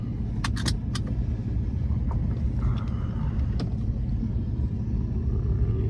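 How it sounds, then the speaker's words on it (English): Steady low engine rumble from a 2014 Porsche 911 S (991) with a sports exhaust, heard from inside the cabin while driving, with a few light clicks and jingles over the constant drone. "I wouldn't have bought this car without the sports exhaust system."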